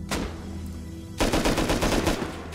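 Rapid bursts of gunfire in the Rust video game, a single shot followed by a dense volley of loud, close automatic fire.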